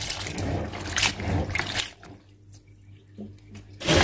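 Beans being washed in water by hand before going into a pressure cooker, a splashing, trickling wash that runs loud at first, eases to a quieter stretch, then surges again at the end.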